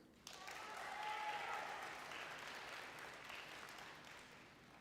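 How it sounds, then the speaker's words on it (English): Audience applause at a middle school awards day rises quickly and holds steady, a dense wash of clapping from many hands that slowly thins toward the end. "Let's give a round of applause to Julie Musgrave."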